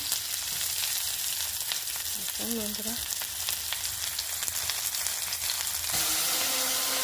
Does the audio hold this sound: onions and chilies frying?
yes